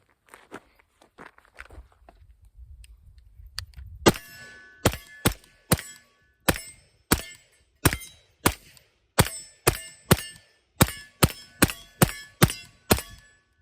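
Gunfire at a shooting range, heard while wearing Walker's ear protection, comes as about sixteen sharp, fairly distant cracks at irregular intervals. Many are followed by bright metallic clangs from steel targets, with quiet shuffling before the first shot.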